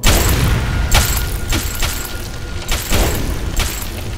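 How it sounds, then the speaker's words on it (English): Frost bombs burst in a dungeon fight in the game Echelon Dungeon, loud booming blasts landing in quick succession with a roughly one-second rhythm over a thick, continuous rumble. "Where did those frost bombs come from?"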